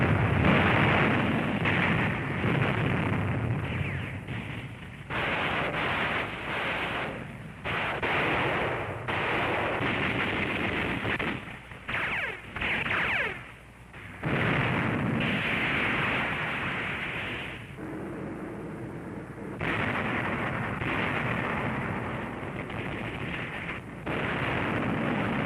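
Sustained artillery shellfire on Iwo Jima in wartime combat, loud continuous rumbling blasts and explosions with brief lulls, dense and relentless throughout, no voices.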